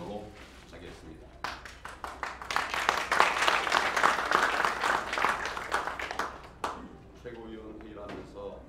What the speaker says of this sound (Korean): 최고위원회의라면서 박수를 받아본 것도 처음입니다.